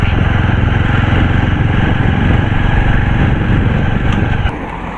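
A Jawa Classic 300 BS6 motorcycle engine runs close by, a loud steady throbbing drone with dense rapid firing pulses, holding even before dropping slightly in level near the end.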